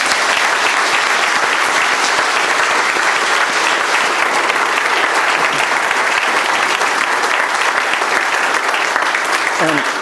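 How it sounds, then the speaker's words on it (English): Dense, sustained applause from a large audience honoring award recipients at a district court Law Day ceremony, loud and continuous throughout with a faint voice surfacing near the end. "Can we have a round of applause for all the honorees again"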